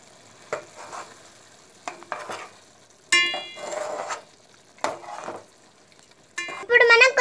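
A spoon stirs a mutton biryani mixture with salt and yogurt, making several separate scraping, clinking strokes against the pot with quiet gaps between them and a faint sizzle underneath.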